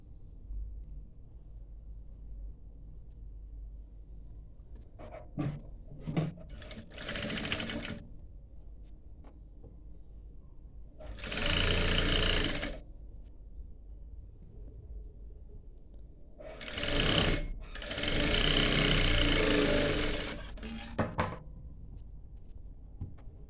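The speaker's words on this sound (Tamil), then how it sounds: "நெக்ஸ்ட்டு வந்துட்டு இதை வி ஷேப்பில் நம்ம வந்து ஸ்டிச் பண்ணணும்" Sewing machine stitching fabric in a V shape during a tailoring class: several short bursts of rapid mechanical whirring separated by quiet pauses, two longer runs in the middle and latter part, close and fairly loud over low background hum.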